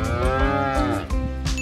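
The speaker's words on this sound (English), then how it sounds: "they'll moo at each other to find each other" A young dairy calf gives one long, loud, drawn-out moo close by, with nothing else heard around it.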